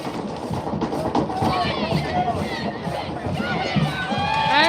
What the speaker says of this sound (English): Crowd getting loud here in the bleachers.